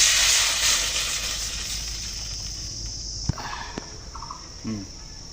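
Water poured into a pan of frying pumpkin greens curry sets off a loud, steady hissing sizzle that fades after a few seconds, followed by a few faint clicks and soft kitchen knocks.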